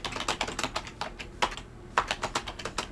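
Rapid clicking keystrokes on a computer keyboard in an office, close and clear, with irregular bursts of typing and a short pause midway.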